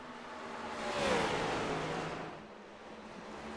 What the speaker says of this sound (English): Still cars on the racetrack here from Bristol.